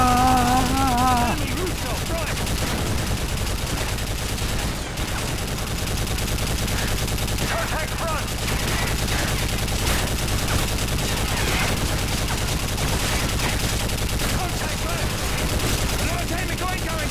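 Sustained automatic gunfire and bursts of shooting in a Call of Duty: Modern Warfare 3 firefight, loud and continuous throughout, with shouted voices mixed in over the battle noise.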